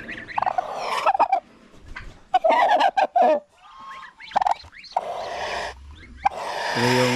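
Loud, close turkeys gobble in rapid rattling bursts with pauses between them, on a rural Filipino farm beside a hut where ducks are also kept.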